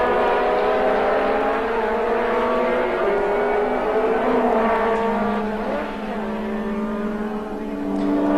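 A race car engine roars past at high revs during a 1980 AF2 championship race, its pitch sliding as it goes by, loud and continuous before easing slightly near the end.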